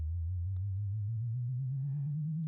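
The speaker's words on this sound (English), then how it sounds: "low sine wave." A low sine-wave tone forms one layer of a spaceship engine in an asteroid video game, a smooth, steady hum that slowly rises in pitch, heard alone without talking.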